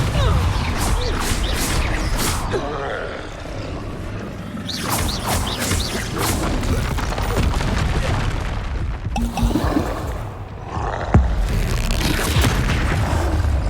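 Depulso spell impacts in the Hogwarts Legacy video game come through as heavy booms and crashing thuds amid constant loud combat noise, with several distinct sharp hits spread across the stretch.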